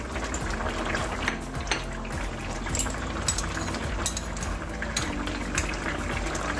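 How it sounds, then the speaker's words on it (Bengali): Fried prawns go into a potato and eggplant curry simmering in a wok, giving close, steady bubbling and liquid churning with small clinks and splashes, no voices. "চিংড়ি মাছ ভাজাটা দিয়ে দিচ্ছি"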